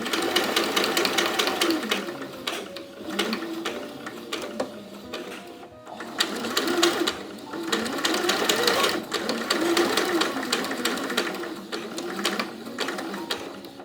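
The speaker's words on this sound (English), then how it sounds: "So what I'm going to do now is to sew from one side to the other, following the 1 centimeter line." Sewing machine running steadily as it stitches fabric along a 1 cm seam line for bias binding, a continuous close mechanical whir with a brief pause near the middle before it resumes.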